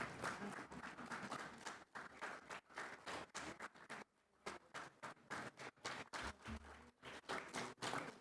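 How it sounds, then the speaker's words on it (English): Audience applause for readers taking a curtain call at a community theater reading, with dense, steady clapping from a room full of people that briefly dips and surges again, fairly close and loud, with no talking. "Clapping keeps the cardio going. Keep on clapping."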